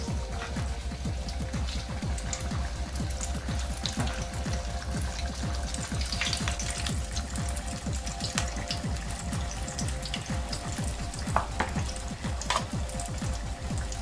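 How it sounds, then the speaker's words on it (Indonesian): Steady crackling and popping of spring roll wrappers frying in hot oil, a dense continuous sizzle with occasional sharper pops, heard close and without talk. "Sekarang goreng ya. Hati-hati, minyaknya panas."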